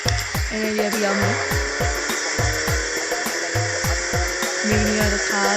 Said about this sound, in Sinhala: මේ විදියට කාර් සවුන්ඩ් එක වෙනවා